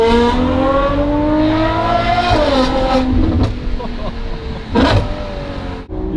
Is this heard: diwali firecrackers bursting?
no